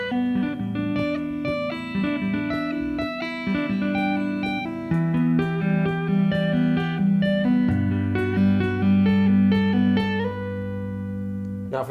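Slowed-down layered lead electric guitar part with 16th-note flurries in a progressive instrumental metal style, played as sustained, overlapping melodic lines with quick note bunches over steady low chords, loud and continuous without talking.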